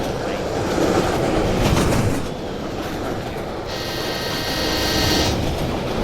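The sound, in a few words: train passing in Roblox video game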